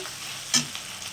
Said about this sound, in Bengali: এবার দিয়ে দেবো আদা বাটাটা। এটা দিয়ে একটু নাড়াচাড়া করে ভেজে নেব।